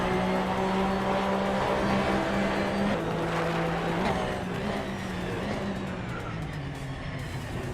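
Race cars launch at the start of a video-game race on the Aintree Vintage track, led by a 2010 Porsche 911 (997) GT3 Cup. Loud, steady engine drones build and shift in pitch as several cars pull away together.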